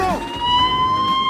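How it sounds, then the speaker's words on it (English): A loud emergency siren wails close by in a short sustained tone after a quick rising sweep, over a low rumbling background; no speech. "I was wondering if you could turn off that siren."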